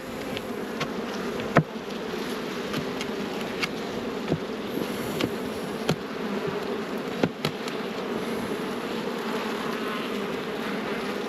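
Honey bees buzz steadily around a nuc hive in summer, a continuous close drone with individual insects zipping past the microphone at intervals.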